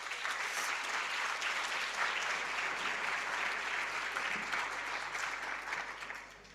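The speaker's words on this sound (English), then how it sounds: "And I think that deserves a round of applause." Sustained audience applause at a school safety event in Eldorado Park, a dense, even clapping from a large crowd holding steady throughout before easing slightly at the end.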